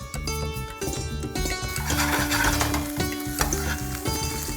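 Ginger garlic paste sizzles loudly with frying madras onions (pungent shallots) in a pan, a steady dense crackle over a sustained tonal hum that runs throughout.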